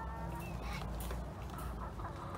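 Backyard chickens cluck softly in a steady low murmur amid rustling and general outdoor noise, close by but not loud, with no clear speech over them.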